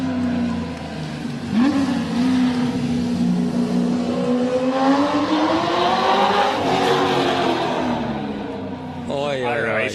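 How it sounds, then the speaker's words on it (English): A Ford GT350 Mustang rally car at a Targa Tasmania stage in George Town revs hard and sweeps past, its engine note rising and falling through gear changes, loud and close throughout, with a brief exclamation from a voice nearby. "GT 350 Mustang. The sound of this will be special."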